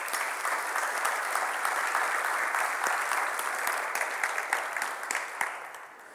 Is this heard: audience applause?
yes